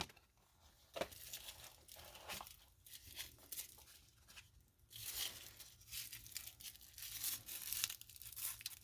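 Tissue paper crinkles and tears as it is unwrapped from around an AVI-8 Jubilee Mustang watch in its box, soft close rustles coming in bursts with brief pauses.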